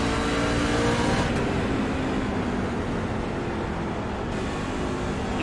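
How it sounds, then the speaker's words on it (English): A NASCAR race car engine revs with a constant, loud, buzzing roar that stays steady and close throughout, with no talking over it. "and you can hear that engine."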